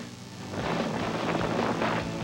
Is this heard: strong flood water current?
no